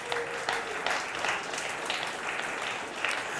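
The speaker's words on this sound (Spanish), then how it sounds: "Dele un aplauso al Señor" A church congregation claps together in praise, a moderately distant, steady patter of many hands with occasional sharper accents and no talk over it.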